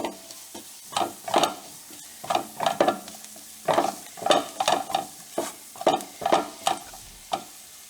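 A bread pocket filling is sautéed in a pan, rhythmic spatula scrapes and stirring strokes repeating steadily over a low background sizzle.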